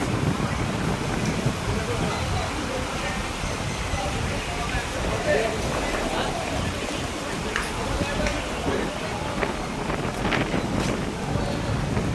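Wind blows in a park in the morning sun, buffeting the microphone with a steady broadband rumble and rushing noise that lasts throughout.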